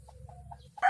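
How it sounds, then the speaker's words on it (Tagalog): Chickens clucking close by in grass, a few soft clucks in quick succession, ending in a sharp louder squawk. "Ang manok, saan ba yung itlog nyo?"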